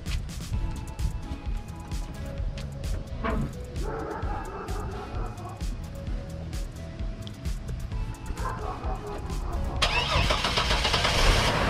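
A 2002 Chevy truck engine cranks and catches after two brief attempts, then settles into a rising, steady run, fairly quiet and close.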